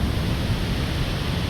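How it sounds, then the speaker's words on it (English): Victoria Falls in Zambia roars as a steady, broad wash of falling water, loud and unbroken like heavy static, with no voices. "just a bit of a closer view of the waterfall there along"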